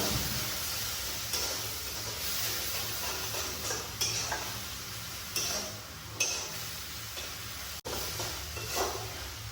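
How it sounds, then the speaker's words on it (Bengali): Onion, ginger, garlic and chilli masala frying steadily in a pan for chicken, a continuous close sizzle and hiss with scraping stirs and occasional louder clatters of the spoon against the pan. "তো এটা ভালো করে ফ্রাই করে নেবো।"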